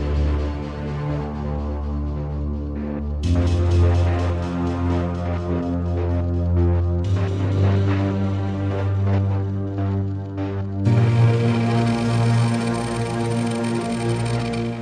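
Native Instruments Low End Strings sustain a rising chord progression, four long chords each entering with a swell and holding as a deep, dense string pad with no voices.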